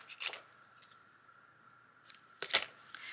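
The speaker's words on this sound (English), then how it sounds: "I love these papers where you can just cut bits and pieces out." Scissors cutting patterned journaling paper up close: crisp snips at the start and again near the end, with soft paper rustles between, no talking.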